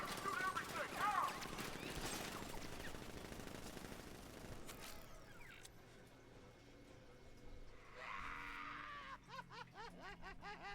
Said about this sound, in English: Open fire! Shoot everything!